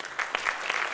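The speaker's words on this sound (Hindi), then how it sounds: "इनके लिए हमें एडवांस में ताली देना है." A small audience claps steadily at a training demo in Nagpur, a brief burst of applause with individual claps distinct and moderately near.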